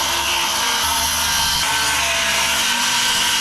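Circular saw cutting through a sheet of plywood, a loud continuous whining, grinding roar up close with slight shifts in pitch as the blade moves through the wood, and no one talking.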